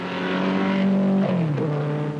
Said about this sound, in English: coming slowly round Tats, is the first casualty, Seymour on the Maserati, who goes straight into the pits with gearbox trouble